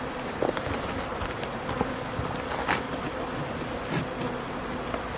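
Honey bees buzz continuously at close range by a hive during a nuc installation, a busy droning hum with occasional louder passes and faint knocks beneath it.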